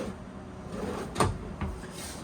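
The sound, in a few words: pull-out drawer under travel trailer refrigerator opening or closing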